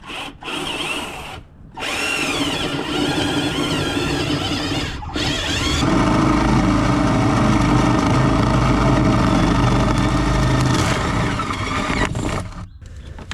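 A power drill bores a 7/8 inch hole through the compartment wall of a teardrop camper, whining steadily and loudly for most of the stretch, with a couple of brief pauses and then a heavier, deeper grinding as the bit bites in.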